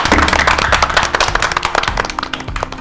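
Studio audience applause on a morning show after a band performance, a dense burst of hand claps that thins into scattered claps as it fades.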